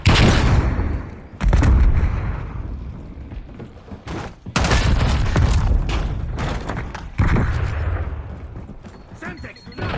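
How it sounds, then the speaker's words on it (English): Gunfire and a flashbang grenade blast in a Call of Duty video game, with loud repeated bangs, thuds and crackling shots in bursts, while game voices talk over the action. "Incoming flashbang."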